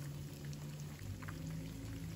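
Pieces of fish fry gently in oil over low heat, a quiet, even crackle of tiny popping bubbles with a faint steady hum behind it.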